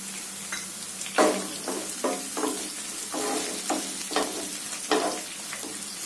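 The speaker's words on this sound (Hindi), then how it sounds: "इनको भी अच्छे से तेल में फ्राई कर लेंगे" Chopped onions and chillies frying in oil for dal tadka, a soft sizzle punctuated by regular bursts of spatula scraping and tossing, close and without speech.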